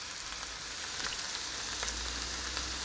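Garlic sizzles steadily in a Dutch oven while beef goulash is being made, with a soft, even crackle and faint pops heard alone.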